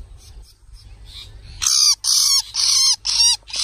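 A small bird screeches loudly in a rapid series of harsh, high cries while being grabbed outdoors, after a quieter stretch with faint background noise.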